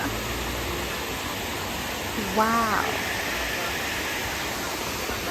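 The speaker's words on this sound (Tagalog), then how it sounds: "Ayun yung sapa, yung ilog." A mountain stream or river at a camp in Genting Highlands rushes with a constant broadband hiss from start to end; a brief exclamation is voiced over it midway.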